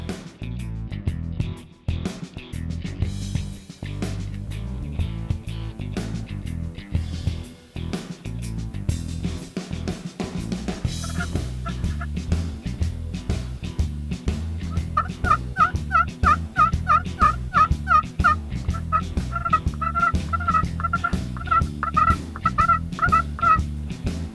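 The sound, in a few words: wild turkey gobbler gobbling in Oklahoma field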